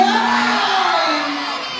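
A loud crowd at a barangay fiesta gay beauty pageant cheers and shouts, high excited voices blending into a continuous roar that slowly fades toward the end.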